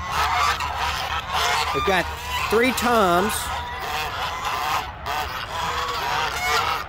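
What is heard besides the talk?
Sebastopol and African geese honking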